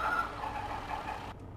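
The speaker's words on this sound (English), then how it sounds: "Let me at least get rid of the beeping sound." Reversing beeps from a truck in Euro Truck Simulator 2, a steady repeating tone over a low engine hum that cuts off near the end.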